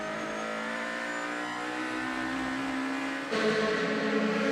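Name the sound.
DTM race cars during qualifying at Hockenheim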